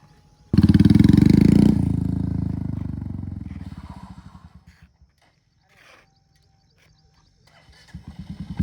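A Royal Enfield Meteor 350 engine gives a loud, sudden rev burst that holds for about a second, then decays slowly into a quiet idle thump, with a softer rev returning at the end.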